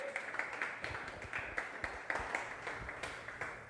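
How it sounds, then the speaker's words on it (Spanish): A church congregation claps during a sermon on prayer, faint and somewhat distant, the hand claps landing in a loose, roughly rhythmic pattern without voices over them. "Aplauda a Jesús, póngase contento, gloria a Dios."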